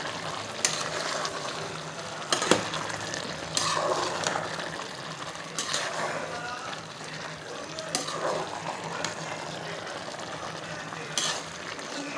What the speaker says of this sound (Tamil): இப்போ ஒரு பேனில் கொஞ்சமாக நெய் ஊற்றி நம்ம சேமியாவை வறுத்து எடுக்கணும்.